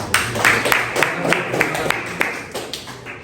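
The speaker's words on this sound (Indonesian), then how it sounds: "beri tepuk tangan untuk kelompok 1" Scattered clapping from a small audience at a teacher certification performance session in Jakarta, a handful of distinct claps with uneven rhythm, fairly close and thinning out over a few seconds.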